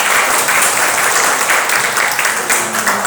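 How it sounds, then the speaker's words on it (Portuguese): An audience at an evening lecture on the history of Malhada claps together, a dense, loud, sustained round of applause that fills the room evenly from start to finish. "Vamos aplaudir?"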